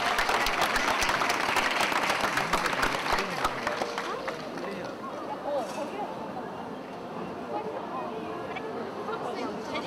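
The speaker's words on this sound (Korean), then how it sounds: "격려의 박수 부탁드리겠습니다" Audience applauding student contestants at a rice cake competition, a loud dense burst of clapping that gradually thins and softens, with crowd chatter mixed in underneath.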